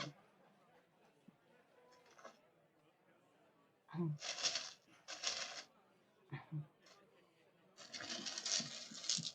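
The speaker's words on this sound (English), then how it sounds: "That's some ASMR going with the sound of dice." Tabletop dice rolling and clattering, several distinct bursts of rattling and tumbling across a surface, fairly close and crisp, with quiet talk in the gaps between rolls.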